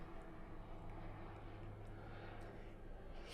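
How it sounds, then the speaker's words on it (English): A helicopter flies overhead, heard as a faint, steady distant engine drone with a low hum and no talking. "Helicopter."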